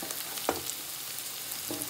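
Onion and capsicum sauté in a pan over a medium flame, giving a quiet, steady sizzle with a couple of soft scraping stirs, heard alone at low volume.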